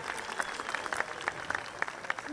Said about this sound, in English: let's go ahead and give those folks a round of applause